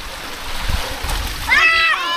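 Seawater overflowing a flood barrier into a settlement in Muara Angke, close splashing and rushing water with a voice calling out over it.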